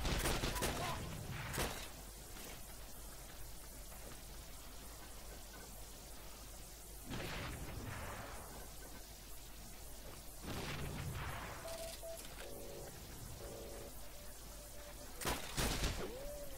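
Several grenade blasts in a video game skirmish, sharp bursts with crackling tails at irregular intervals over steady background noise. One loud blast comes early, then more follow later, the last ones close together near the end.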